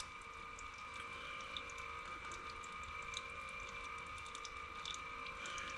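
Transfer case oil drains from a 2011 Land Rover LR4 in a steady, faint trickle, joined by a constant mechanical hum and scattered tiny ticks.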